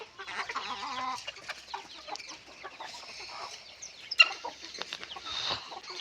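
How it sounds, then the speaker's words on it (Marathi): Free-range village chickens and chicks clucking continuously at close range, several birds overlapping in busy, uneven bursts with soft outdoor evening background. "या आता आजीच्या कोंबड्या आणि काय गावरण ना"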